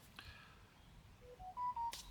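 A mobile phone gives a short series of faint electronic beeps, rising stepped tones ending in a couple of brighter blips, at night by a carp fishing bivvy under a brolly.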